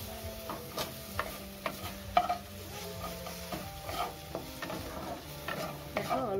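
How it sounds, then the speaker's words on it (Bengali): Onion, tomato and green chilli being stirred in a wok, with soft scraping and tapping strokes of a spatula repeating at a steady pace over a gentle sizzle, close and quiet, with no talking. "এবারে দেখো এই কড়াইতেই পেঁয়াজ, টমেটো আর কাঁচা লঙ্কাটা আমি অল্প নেড়ে নিচ্ছি"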